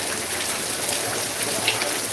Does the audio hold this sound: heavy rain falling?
yes